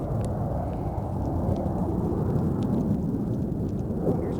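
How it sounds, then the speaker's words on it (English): A jet aircraft passes overhead along a canyon hiking trail in San Diego, a steady, broad, rumbling roar that fills the whole stretch without letup. "Sorry for the jet noise."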